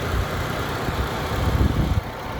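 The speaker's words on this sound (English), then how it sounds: "Get a shot of the engine while it's running." The engine of a 1996 Subaru SVX runs steadily with the hood open, a close, low rumbling idle with a slight swell near the end and no speech.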